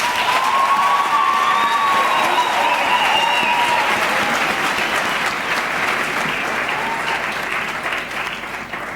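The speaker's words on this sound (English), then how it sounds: "Can we all give them a round of applause?" A large audience at a University of Johannesburg graduation ceremony applauds in a sustained, dense wash of clapping that holds steady for several seconds before slowly thinning, with faint cheers mixed in.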